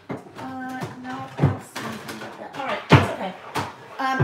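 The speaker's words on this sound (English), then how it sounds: "Sandy, don't keep opening those because it's going to make loud noises." Cupboard doors bang open and shut repeatedly in a room, sharp thuds and slams recurring every second or so, while a voice speaks in between.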